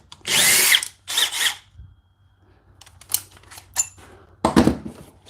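Milwaukee compact drill spinning up in two loud bursts near the start, then quieter handling clicks and a third short whir at the end.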